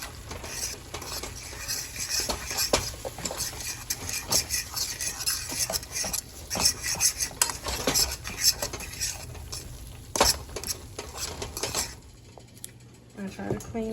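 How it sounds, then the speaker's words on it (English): Gravy being stirred and mixed in a pan, with repeated scraping and clinking of a utensil against metal in an irregular rhythm, close and fairly loud, with a brief quieter stretch near the end. "I need to mix that out. And just make yourself some gravy."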